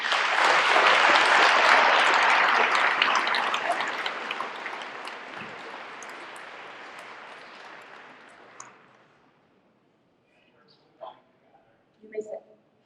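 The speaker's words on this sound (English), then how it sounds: "Please join me in a round of applause." Applause from a large audience at a high school graduation ceremony, loud and sustained at first, then slowly thinning out and fading to silence, with a few faint stray sounds near the end.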